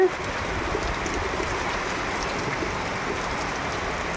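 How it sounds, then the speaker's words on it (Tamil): Heavy rain pours steadily on a Kerala family home, a dense, even hiss of water with no pauses, close and loud throughout. "ஜோனு பெய்யுது மழை"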